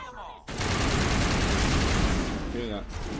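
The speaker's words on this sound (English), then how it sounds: "Okay, that's one explosion done." A loud explosion in Mass Effect Legendary Edition bursts in suddenly and sustains a dense, rumbling roar for about two seconds before fading. A voice is heard faintly before and after it.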